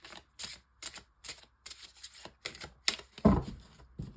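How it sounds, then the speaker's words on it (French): Tarot cards shuffled by hand for a five-card draw: a quick run of crisp riffling snaps and card slaps in uneven bursts, close and fairly loud, ending with a heavier thud as the deck settles. "je prends le Encore Tarot pour un tirage en 5 cartes"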